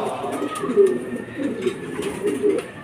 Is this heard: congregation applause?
no